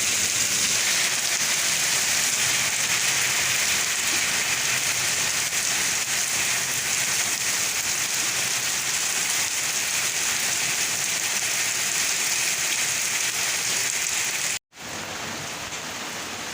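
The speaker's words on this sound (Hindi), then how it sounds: "मुसलसल बारिश जारी है।" Steady, continuous rain falls across a hilly countryside, a dense even hiss that holds at one level throughout, broken only by a momentary cut near the end before the downpour resumes.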